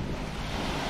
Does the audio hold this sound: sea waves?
yes